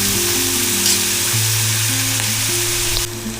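Onions frying in a kadhai until reddish-brown for a Konkan-style village crab curry, giving a steady, close sizzle that holds evenly throughout with no talking.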